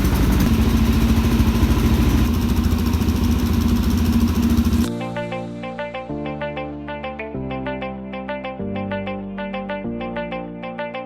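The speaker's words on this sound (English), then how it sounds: "this thing runs so good, and it sounds super good with this exhaust right here" A 2019 DRZ 400 supermoto motorcycle engine with an aftermarket exhaust idles with a deep, steady burble for several seconds, then cuts away to a bright, repeating electronic melody.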